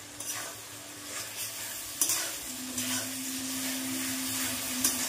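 Spices sauté in a pan for mutton curry, a faint steady sizzle with scattered scrapes and stirring strokes of a spoon, a low hum underneath and a few sharper clinks.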